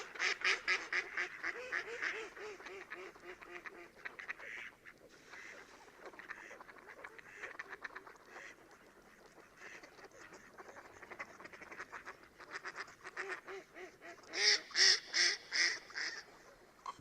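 A female mallard duck gives a run of loud, harsh quacks, with a few closer and louder calls near the end, recorded in a swampy wetland setting.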